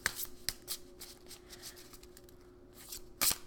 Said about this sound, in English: So you would just shuffle, it's a 3-card spread.